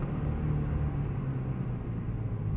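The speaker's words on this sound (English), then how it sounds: "Oh, some good downshifting" A car engine drones low and steady from inside the cabin while downshifting, a continuous rumble with a faint rise in pitch and no distinct rev peaks, no talking.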